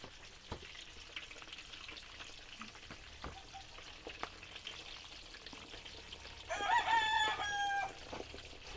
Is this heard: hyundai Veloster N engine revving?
no